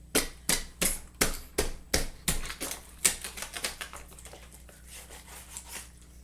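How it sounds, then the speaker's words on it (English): A kitchen knife chops down through raw chicken bone under hand pressure, a run of about eight sharp, evenly spaced cracking knocks close by, followed by softer, quicker taps as the cuts trail off. "Cut right through that bone."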